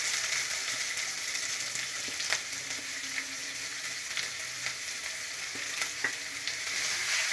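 Finely chopped large onion frying in hot oil in a pan, a steady close sizzle with occasional light crackles and stirring clicks, no voices.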